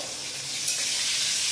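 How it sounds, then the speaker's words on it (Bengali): Brinjal (eggplant) slices frying in hot oil in a pan, a steady close hiss of sizzling that holds level and alone, with no voices. "বেগুনের ভাজা ভাজা যেটুকু দরকার সেটুকু হয়ে গেছে।"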